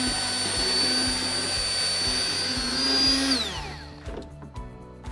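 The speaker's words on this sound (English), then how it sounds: "And we're going to puree the mixture to get the shallots and the garlic pureed into the cream." A kitchen blender purees shallots and garlic into cream with a loud steady motor whir that winds down near the end, leaving a faint clattering and spinning-down rattle.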